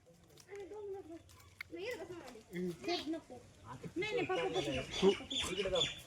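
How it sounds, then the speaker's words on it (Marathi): Several parrots screech and chatter in bursts from somewhere above, their harsh calls mixing with people talking nearby. "त्या ठिकाणी वरती आम्हाला आवाज येतोय पोपटाचा"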